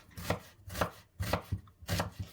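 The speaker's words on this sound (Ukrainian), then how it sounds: "Також нарізаємо одну цибулину кубиком" A knife dices an onion on a cutting board, four or five firm, close strokes at an even pace, with no talking.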